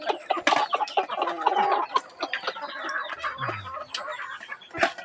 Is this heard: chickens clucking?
yes